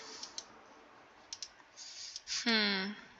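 A computer mouse clicks several times, sharp and quiet taps scattered irregularly, followed by a brief tonal sound near the end.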